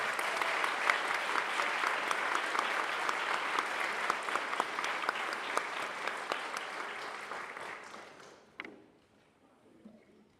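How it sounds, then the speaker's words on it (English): An audience at an academic honors day award ceremony applauds the award recipients, a dense, steady round of clapping that tapers and fades out near the end. "So let's applaud everybody who received it."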